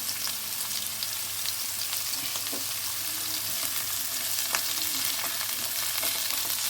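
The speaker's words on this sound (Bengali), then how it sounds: "একটু ভালো করে নাড়াচাড়া করে নিতে হবে।" Fried potatoes being stirred into a ridge gourd curry in a pan, with a constant sizzle and scattered light scrapes and clicks of the spoon against the pan.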